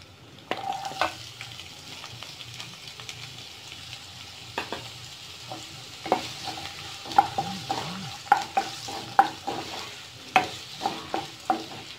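Green chillies and onions frying in a pan with curry leaves, giving a soft continuous sizzle broken by repeated spatula scrapes and taps at an uneven rhythm, close by and without talk.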